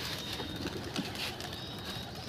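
Pigeon cooing, from a flock kept on a rooftop, as a steady low drone close by with no voices.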